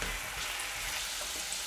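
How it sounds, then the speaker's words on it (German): Liver and mushrooms fry in a pan with cream cooking nearby, a steady broadband sizzle running without pause, close and fairly loud, with faint scraping hints of stirring and no speech. "aber auch gleich die Leber alles in die Pfanne geben. Und werden wir das alles schön anbraten. Immer wieder umrühren."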